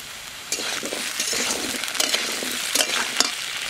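Mixed vegetables such as potato, pumpkin, cauliflower, carrot, papaya, radish, green banana and pointed gourd fry with dried red chilli and bay leaf in a pan, a steady loud sizzle broken by repeated scraping stirs and light clinks, with no talk.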